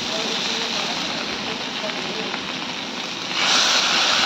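Ground mustard paste stirred into bitter gourd frying in a pan sends up a steady hiss and crackle that swells louder near the end, with someone talking over it.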